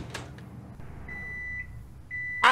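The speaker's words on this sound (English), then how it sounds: "I'm going to start putting stuff in this microwave and just seeing what cooks." A microwave oven in a video game heats a bottle of ketchup, with a low hum under a couple of thin electronic beeps and a sharp bright chime at the end.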